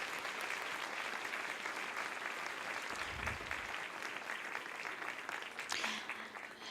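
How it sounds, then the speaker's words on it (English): Audience at an Alzheimer's conference opening ceremony gives sustained applause, a dense, even wash of many hands clapping at moderate distance, continuous throughout with a brief low thump partway. "I would like to give you an extra applause for your commitment, Mrs. Janssen."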